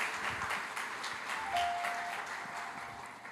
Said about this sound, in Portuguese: Esses aplausos foram muito fracos,